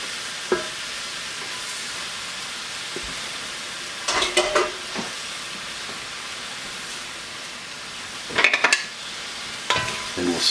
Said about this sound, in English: we'll stir fry this all as well